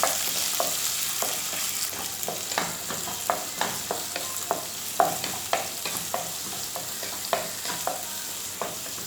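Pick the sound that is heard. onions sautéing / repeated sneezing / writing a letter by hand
onions sautéing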